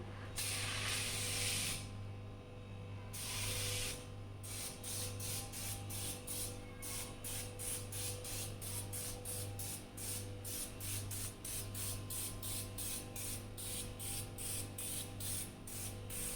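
A can of stove cleaner sprays in two long hissing bursts, then settles into a fast, steady run of short, sharp spritzes, close and loud over a low hum, with no voices.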